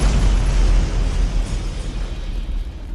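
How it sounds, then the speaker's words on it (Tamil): An armoury blown apart by dragon fire, a huge booming explosion with a heavy low-end rumble that swells at the start and then rolls on, slowly fading. "அடுத்த நொடி ஒரு மாபெரும் வெடிப்பு."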